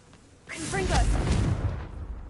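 A Confringo fire spell blast in Hogwarts Legacy, a sudden loud whooshing burst that swells into a deep rumbling boom, with a voiced sweep mixed into the blast.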